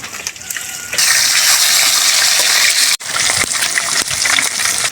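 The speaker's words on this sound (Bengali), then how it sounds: "শোল মাছগুলোকে হলুদ লবণ মাখিয়ে হচ্ছে প্রথমে ভাজবো" Turmeric-and-salt-coated snakehead fish pieces sizzling in hot oil after being turned, a loud steady hiss rising sharply after a quieter start, with a brief break and spatters.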